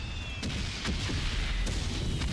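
Cannon fire in the war video game Soldats inconnus: a dense, continuous low rumble with several muffled booms rising out of it, loud and without speech.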